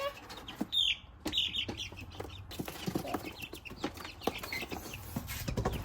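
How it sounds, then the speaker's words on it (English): Chickens cluck and chirp in a backyard garden, a few sharp high calls early on followed by scattered softer clucks and rustling close by, with no speech. "chickens."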